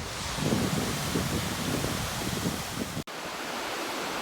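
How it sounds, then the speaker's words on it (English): A small hidden waterfall in the piney woods off Lake Livingston, East Texas, rushing with a steady, broadband roar that stays loud and close throughout, with no voices. "We found a waterfall."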